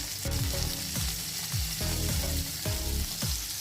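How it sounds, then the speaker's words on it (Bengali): Steady sizzling of pointed gourd pieces with salt and turmeric frying in hot oil, with repeated soft scraping strokes as pieces are stirred, close and continuous. "এখন আমি এটাকে একটু ভালো করে ভেজে তুলে নেব"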